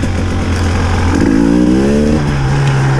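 A 2019 KTM 300 EXC TPI two-stroke dirt bike ridden off road in the Fens; its engine drones steadily nearby, then revs up with a rising pitch sweep and holds at a higher, buzzing note, with no voices.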